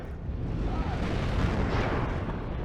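In the WARNO war game, an explosion brings a building down: a deep, rumbling blast that rolls on as debris crashes, with a brief voice over it.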